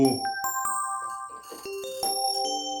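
Bell and chime tones played on a Korg Kross 2 synthesizer: a series of bright, ringing struck notes with long sustained overtones, some overlapping and decaying, played close and clear with no voices.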